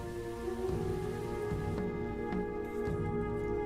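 Steady rain patters on surfaces in the Songs of Syx video game, a dense even hiss with scattered drop hits over a low tonal hum of game music.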